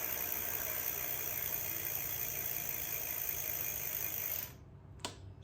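The motor of a mountain e-bike spins with the throttle twisted and the rear wheel off the ground, giving a steady, close electric whine with a hissing hum. It cuts off abruptly near the end, followed by a brief click.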